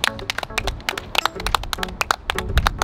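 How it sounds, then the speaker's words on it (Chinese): A small group claps in quick, uneven bursts nearby, with distinct sharp hand claps rather than a dense roar, over a few seconds. "你各位啊，掌声鼓励。"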